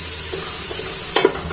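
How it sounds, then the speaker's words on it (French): Onions frying for a tomato sauce sizzle steadily in a pan, with a couple of brief scrapes as they are stirred near the end. "de temps à l'autre, je remue l'oignon pour que ça ne brûle pas"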